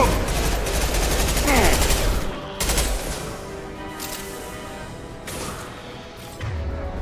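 Pistol fire in Mass Effect 2 combat: several sharp close shots in quick bursts with crackling tails, spaced a second or so apart, with a brief low thump near the end.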